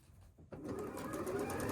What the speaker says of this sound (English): I'm going to sew a 1/4 inch down that side